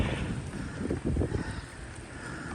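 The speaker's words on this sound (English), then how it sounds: "Man, it's windy." Strong wind buffeting a microphone, a continuous low rumble with gusty roaring swells throughout and no voices.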